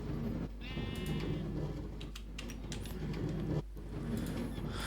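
Sheep in the Minecraft video game bleat repeatedly over a steady background hum, the calls close and clear, arriving in a loose run one after another.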